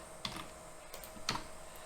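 A computer keyboard is typed on in a few sparse, quiet clicks while commands are entered during a server software install.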